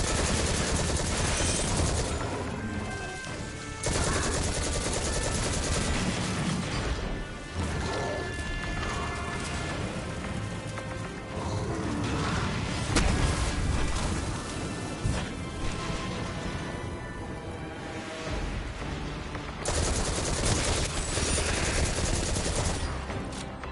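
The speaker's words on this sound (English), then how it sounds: "Grenade launchers are so fucking broken and I love it." Grenade launcher fire in the video game Destiny 2 comes as dense, loud, continuous blasts and explosions layered over a busy combat soundscape, with short breaks between bursts.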